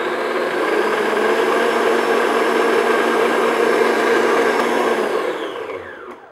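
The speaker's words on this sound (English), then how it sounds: "beat this on high speed until it gets really thick and light, like a very pale yellow color" An electric mixer runs steadily on high speed, beating eggs until thick and pale for ladyfingers, a loud continuous whir that holds for about five seconds before winding down at the end.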